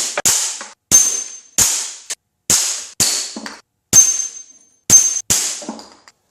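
Beeman P17 .177 air pellet pistol firing about nine sharp, close shots with a metallic ring, spaced roughly every half to one second, with no voices.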